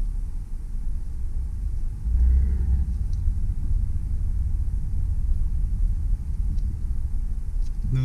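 A 1995 Ford Taurus on a test drive gives a steady, close engine and road rumble from inside the cabin, swelling briefly around the two-second mark. No one speaks.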